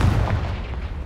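Confringo blasting spell going off in Hogwarts Legacy, a short, dense rumbling burst of fiery blasts lasting about a second, loud and close with no talk over it.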